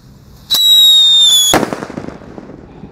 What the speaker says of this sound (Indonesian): Kita nyalakan Black Buster,